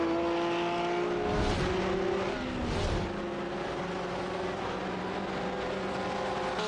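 A Porsche race car engine in a sim racing game drones at high revs without a break, its note shifting as the car accelerates and gears change along the circuit.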